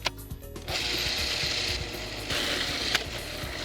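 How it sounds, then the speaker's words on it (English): A food processor grinds lemongrass, garlic and chili into a smooth spice paste, its motor running in two loud, rough whirring bursts separated by a short lull, close up with no talking. "grind these ingredients to a smooth paste in a food processor, or you can pound them by hand in a mortar with a pestle"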